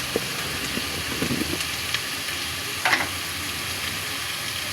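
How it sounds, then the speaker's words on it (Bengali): Spices frying in a pan for a bottle gourd curry, a steady close sizzle and hiss with occasional stirring scrapes and light pops, no talking. "মশলাটা ভেজে নিব।"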